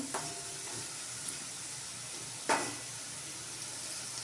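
Potato pieces frying in a pan for sabudana khichdi, a faint steady sizzle with a couple of soft spatula scrapes against the pan.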